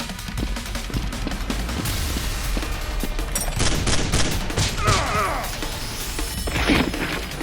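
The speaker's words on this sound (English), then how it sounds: "immediately shoots the last guard" Gunfire sound effects in a staged Nerf gun fight against a criminal gang, a dense barrage of loud cracks and crashing impacts that runs without a break through the whole stretch.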